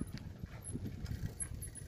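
A horse moves about inside a private rental stable, giving soft shuffling thuds and low stirring sounds that carry steadily through a short, close stretch with no voices.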